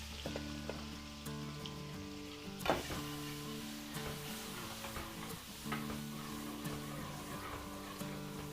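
Garlic sizzling steadily in hot oil and margarine, with a continuous crackling hiss broken by occasional louder pops and stirring clatters.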